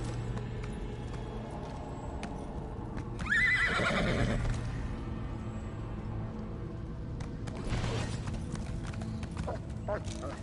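Horse hooves clip-clop and a horse whinnies in the online game Elder Scrolls Online, the rhythmic clopping and brief neigh sitting faintly beneath game ambience and players talking.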